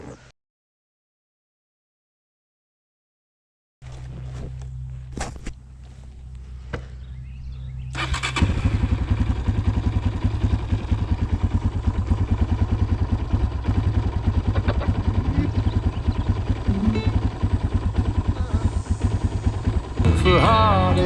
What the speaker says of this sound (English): now I'm gonna go take my bike here, ride down to Bose